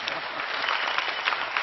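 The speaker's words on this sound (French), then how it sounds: "Est-ce qu'on peut l'applaudir?" A television studio audience breaks into brief, dense applause, a steady wash of many hands clapping at close range with no talking over it.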